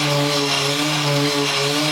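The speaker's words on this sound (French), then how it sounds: "ça c'est pour la ponceuse Metabo" A Metabo orbital sander running on wood, a steady loud electric motor whine with a constant buzzing hum, close and uninterrupted throughout.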